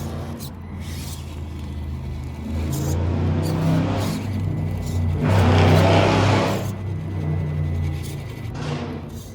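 Small Meus Ripper RC crawler with relatively small tires driving up a hill, its electric motor whining steadily and rising in effort partway through, close and fairly loud with no talk over it.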